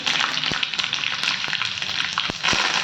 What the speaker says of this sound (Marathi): सर्वप्रथम आपण 3 चमचे मोहरी घालूया. नंतर मिरची,